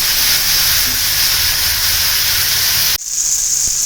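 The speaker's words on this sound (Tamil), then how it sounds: "வெங்காயம் தக்காளி நல்லா வதங்கிட்டு இருக்கு." Onions and tomatoes sautéing in a pan for a dried anchovy thokku produce a loud, even hiss like steam that carries on without a break, then drops abruptly near the end to a quieter sizzle.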